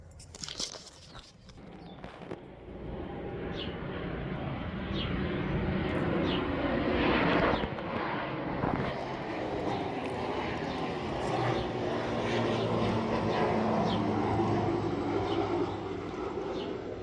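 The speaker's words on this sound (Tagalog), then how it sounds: "malapit lang sa airport, kaya madaming aeroplano every now and then" An airplane passes overhead near an airport, a broad rumbling roar that swells in from faint to loud and holds steady as it flies over.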